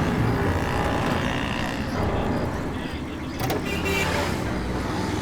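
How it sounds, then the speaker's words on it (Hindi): Car driving fast, with a continuous loud road and engine roar and rushing wind throughout, voices faintly audible beneath it. "ये इतनी तेज कार कौन चला रहा है?"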